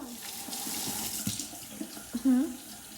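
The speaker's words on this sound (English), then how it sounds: "She's washing the meat." Tap water running into a kitchen sink while raw pork is washed, a steady close splashing stream with brief clatters and a faint voice in the background.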